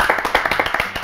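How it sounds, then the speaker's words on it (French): A TV studio audience claps for a show guest in a brief, rhythmic burst of distinct hand claps, close and moderately loud. "C'est Florent Matin, qu'on applaudit."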